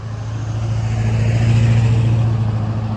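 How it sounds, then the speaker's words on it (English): Steady, loud road traffic noise from cars passing near a bridge in Lake Worth Beach, Florida, a continuous low engine and tire rumble swelling slightly through the middle, with no talking. "I just can't take the noise of cars."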